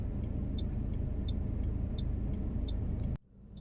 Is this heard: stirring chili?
no